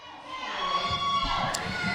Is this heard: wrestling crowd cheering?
yes